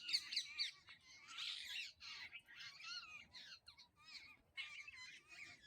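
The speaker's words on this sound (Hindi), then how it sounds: "तोतों की आवाज़ भी आ रही है" A flock of parrots chirps and squawks in dense, overlapping bursts, faint and somewhat distant, with no voices.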